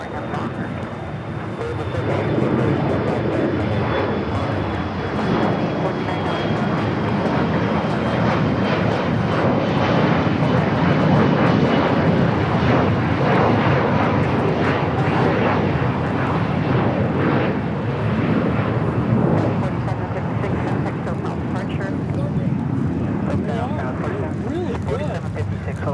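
A Cathay Pacific heavy jet takes off from runway 25R at LAX. A loud, continuous jet engine roar runs throughout with a steady broadband rumble and a faint whining tone, while air traffic control radio chatter plays over it.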